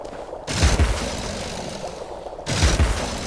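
In the video game Alice: Madness Returns, the pepper grinder fires two heavy, booming bursts about two seconds apart, each a dense rattle of rapid shots with a low thumping punch.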